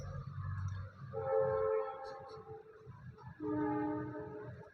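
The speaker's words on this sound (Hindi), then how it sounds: "ट्रेन थोड़ा सीटी मार रहा है" Train horn sounding nearby in sustained tonal blasts, a long call followed by a second after a short break, over low rumbling rail noise.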